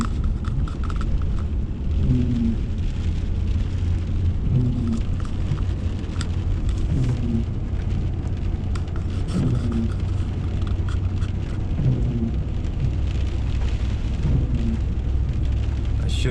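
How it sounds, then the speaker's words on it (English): Heavy rain and a thunderstorm drum steadily on a car, with a deep, constant low rumble like wind or a car interior, and recurring soft thumps at regular intervals. "the storm is definitely here"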